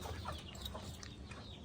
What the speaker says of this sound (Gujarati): તો ફ્રેન્ડ તમે કુકડા જોઈ રહ્યા છો બહુ જાજા હે